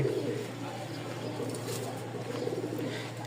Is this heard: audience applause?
no